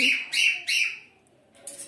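Pet birds in a home cage give bright, loud chirps in short repeated bursts, a pause, then another brief run of tweets nearby.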